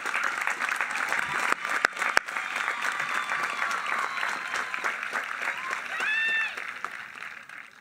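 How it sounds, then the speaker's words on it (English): Sustained applause from a large crowd for the graduating class at a high school graduation ceremony, steady clapping heard from some distance, with occasional sharper nearby claps, whoops and a brief cheer partway through. "Please join me in a round of applause for the graduating class of 2021."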